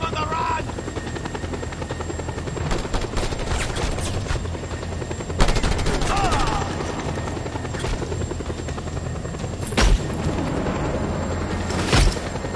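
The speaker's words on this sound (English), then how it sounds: "Chopper!" A helicopter arrives in the game Just Cause 2, its steady rotor drone running throughout alongside scattered gunfire and a few heavy impacts, with a voice briefly heard over it.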